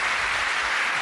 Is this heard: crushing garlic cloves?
no